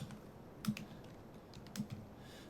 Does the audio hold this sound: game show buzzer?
no